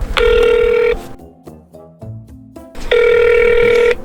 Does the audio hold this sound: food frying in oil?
no